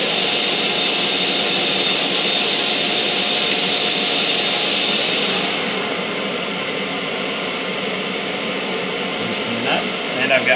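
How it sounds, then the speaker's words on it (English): A metal lathe runs while trimming brass cartridge cases held in a collet, giving a loud, steady broadband whir with a high whine that drops out partway through as the lathe is switched off. "turn the lathe on."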